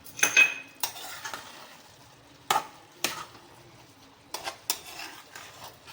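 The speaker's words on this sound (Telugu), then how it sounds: "ఇప్పుడు లో ఫ్లేమ్లోని స్పూన్ నెయ్యి వేసుకొని కలిపేసుకొని లో ఫ్లేమ్లో" Ghee being stirred into cooked tomato pulao rice in a pot on low flame, heard as a few separate spoon scrapes and clinks against the metal over a faint background sizzle, close, with quiet gaps between.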